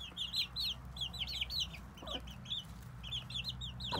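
Adult hens clucking in a chicken coop, a steady chorus of short, repeated clucks from several birds nearby, with a low background hum beneath.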